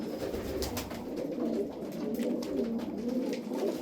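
Tumbler pigeons (oyun kuşu) cooing in a loft, soft repeated throaty coos overlapping one another in a continuous murmur, fairly close but quiet, with no talk over them.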